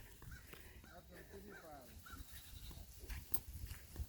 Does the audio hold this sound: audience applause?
no